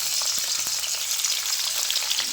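Green chillies sizzle steadily in hot oil in a pan, a close, continuous crackling hiss with small pops and no voices, while masala Maggi noodles are being prepared.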